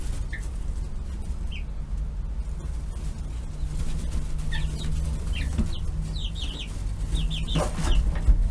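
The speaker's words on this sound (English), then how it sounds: "And I think maybe that's a rooster" Chickens cluck softly in short, scattered calls over a steady background hum, with clusters of quick clucks coming close together toward the end.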